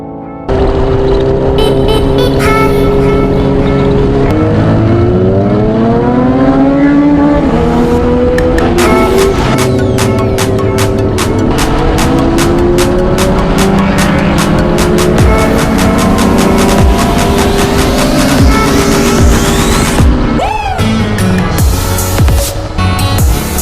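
A Kawasaki H2 Carbon superbike roars loudly throughout a Sunday ride, its engine pitch sweeping up and down through gear changes, with sharp rising revs, shifts and sustained high-speed howl close to the microphone.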